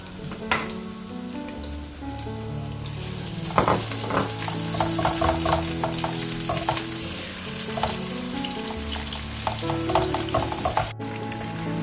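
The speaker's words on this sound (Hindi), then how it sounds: "ये देखिए हमारी प्याज पकनी शुरू हो चुकी है।" Onions frying in about three tablespoons of oil in a hot pan give a dense, crackling sizzle that swells after a few seconds. Repeated spoon scrapes and stirring clatter run through it up close, with no speech.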